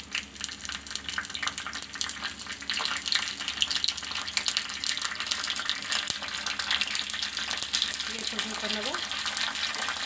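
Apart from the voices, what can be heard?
water poured from tap while cooking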